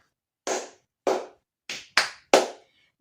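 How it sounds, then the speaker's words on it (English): Students in a classroom give themselves a round of clapping: five sharp, separate claps spaced roughly half a second apart, fairly close and clear against a silent background. "Give yourself a very good clap."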